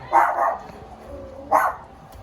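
A dog barks twice in quick succession, pauses, then barks once more, fairly close and loud.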